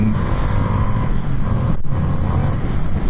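A 2021 Indian FTR motorcycle with a troublesome clutch pulls away hard in first gear, its engine a loud, close, steady roar with a brief dip partway through.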